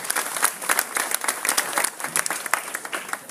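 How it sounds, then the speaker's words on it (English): Outdoor crowd at a September morning recovery event in Sioux Falls claps in a dense, lively burst, close and loud, with scattered cheers. "a big round of applause for everybody coming out on this great, muggy, hot September morning"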